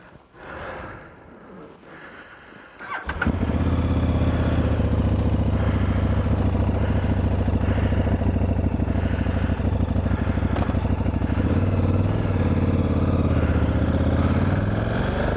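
A motorcycle fires up after a quiet moment, then a loud, sustained engine drone carries on while being ridden, close and continuous with little variation.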